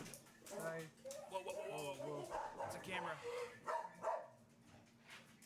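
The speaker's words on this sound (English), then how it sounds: "Oh, dog." A dog barks and yips several times close by, mixed in with people talking over it indoors.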